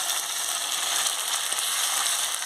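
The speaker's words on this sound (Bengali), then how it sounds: "দিয়ে ভালো করে মশলাটাকে কষিয়ে নিচ্ছি" Ground paste of ginger, garlic, dried chili and tomato fries with onions in a pan for a meat curry, giving a continuous bright, crackling sizzle at close range.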